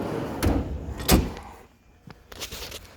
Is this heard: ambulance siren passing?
no